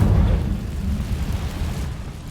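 A deep whooshing burst of flame from the Incendio fire spell in Hogwarts Legacy, loudest at the start and then settling into a low, steady rumble as it fades slightly.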